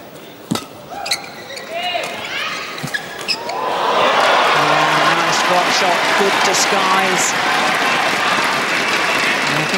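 Badminton crowd at the All England championships bursts into loud, sustained applause and cheering after a few sharp shuttle hits and scattered voices, the roar filling the hall to the end.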